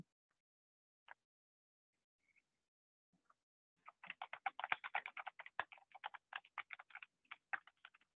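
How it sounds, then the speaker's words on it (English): Keys clatter on a computer keyboard as a question is typed into a Schoology multiple-choice assessment: a few isolated taps, then a steady run of quick, light keystrokes, quiet and close with no voice. "I'm just going to go ahead and type my question in."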